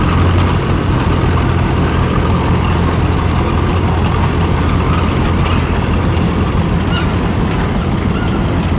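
An antique tractor engine runs steadily at an antique tractor show, a continuous low rumbling drone close by, with faint outdoor background noise and no clear talk.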